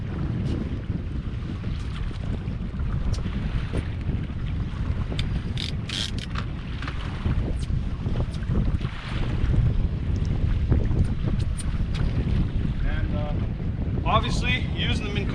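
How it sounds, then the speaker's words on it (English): A fishing boat is pushed across the water by a Minn Kota Vantage trolling motor running like a kicker at power level 4 while trolling crankbaits for walleye. A steady, loud wash of water and wind noise runs throughout with no talk. "Obviously, using the Minn Kota Vantage just like a kicker motor. Got her down, just pushing on power level 4."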